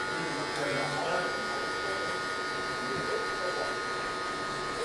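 Electric hair clippers buzz steadily and continuously through the whole span while a barber cuts a drop fade, closing the clipper lever gradually as the hair fades down, with the motor hum staying close and constant.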